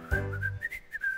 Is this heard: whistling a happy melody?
yes